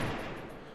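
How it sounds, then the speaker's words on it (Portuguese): Dense gunfire from a shooting video game, a continuous rattling burst at moderate level with no speech over it. "Dando tiro no nada"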